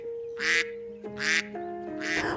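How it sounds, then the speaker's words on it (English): Three tonal, synthetic-sounding quacks from a duck, evenly spaced and up close, each a short nasal burst over a sustained musical tone. "Quack, quack, quack, says the duck."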